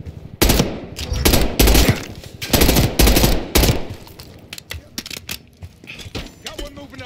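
Bursts of machine gun fire in a Call of Duty: Black Ops 6 campaign firefight in offices, loud sustained volleys in the first half giving way to scattered single shots, with voices calling out over the gunfire.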